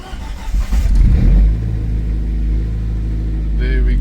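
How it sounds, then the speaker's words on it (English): Big turbo Audi A4 B7 engine with a newly installed drive-by-wire throttle, revving up loudly under throttle then settling into a steady rumbling idle, heard close up. "I think I must give it a bit of throttle."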